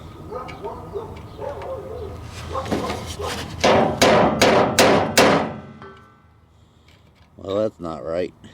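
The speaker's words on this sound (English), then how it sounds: "tap the window with my hammer" A hammer tapping on a truck window, first a few light knocks and then a run of five loud, evenly spaced sharp raps, followed after a quiet gap by two brief sounds that could be a bird cooing.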